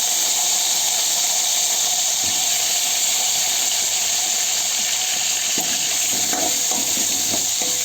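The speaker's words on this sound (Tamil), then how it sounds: "கத்திரிக்காயை கொஞ்ச நேரம் எண்ணெயிலேயே வதக்கி எடுத்துக்கலாம்" Brinjal strips sautéing in hot oil after mustard seeds and curry leaves, a continuous loud sizzle and hiss with occasional scraping stir sounds toward the end, for a village-style Tamil kara kuzhambu.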